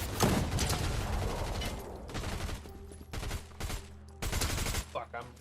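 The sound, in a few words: submachine gun fire in a video game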